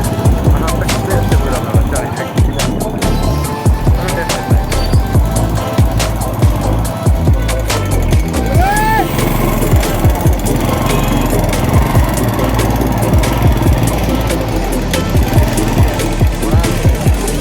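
A motorbike engine runs steadily with a rough, continuous rumble, loud and close, with wind and road noise throughout.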